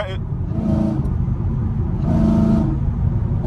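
A Chevrolet Camaro SS engine revs after a paddle-shift downshift into fifth gear, two swelling rises of deep engine rumble at close range.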